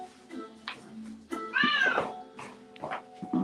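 A cat meows in a run of several calls, with one long, loud, wavering yowl in the middle and shorter, softer mews around it, all close by.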